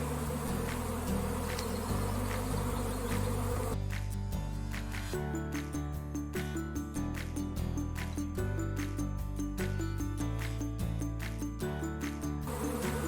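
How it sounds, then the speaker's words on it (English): A huge honey bee swarm bearding on the ground makes a dense, steady buzz, loud and close throughout with no voices. "This is a huge swarm."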